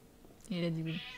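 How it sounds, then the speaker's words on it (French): A cat meows once in the video game Resident Evil 2, a drawn-out, clear cry that rises in tone, heard close and loud right after a brief spoken phrase. "c'est le chat vraiment. Il y a aussi des chats ici."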